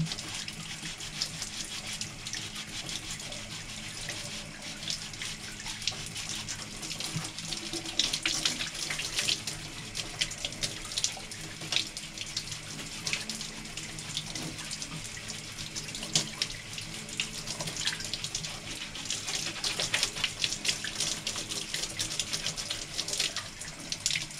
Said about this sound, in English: with just a little bit of scrubbing, you can see this really filthy lid comes clean again